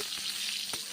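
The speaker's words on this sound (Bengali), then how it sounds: "দু পিঠ ভেজে নিচ্ছি বেগুনগুলো" Eggplant slices fry in hot oil, a dense, loud, continuous hiss with a couple of faint soft bumps.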